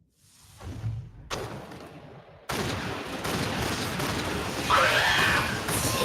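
Enemies exploding in Mass Effect, a rapid series of blasts and gunfire-like bursts that start sparse and grow into a dense, loud barrage, with a sharp sweeping effect partway through.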